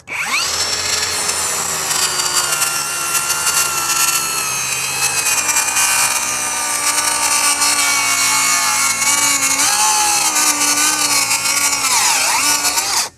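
A DeWalt circular saw rips steadily through wood, a loud continuous high whine that holds for the whole cut and dips in pitch near the end as the blade bogs down under load; no talking.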